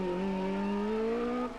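A Division 3 Suzuki Swift rally car at a Barbados rally sweeps past with a sustained, rising engine drone that holds steady and then drops away at the end, loud and near.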